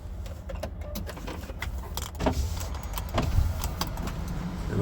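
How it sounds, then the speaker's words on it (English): A truck idling in a truck yard, a low rumbling engine in the background with scattered metallic clicks and knocks over it, moderately loud and steady. "I'm in a truck yard. You can hear the truck in the background."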